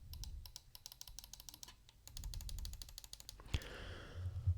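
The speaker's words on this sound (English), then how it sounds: "Right and left click. Scroll wheel. Side buttons." Scyrox V8 budget 30g gaming mouse buttons clicking in quick close-up bursts, sharp rapid left and right clicks followed by a ratcheting scroll-wheel run and a few side-button clicks, with no talking.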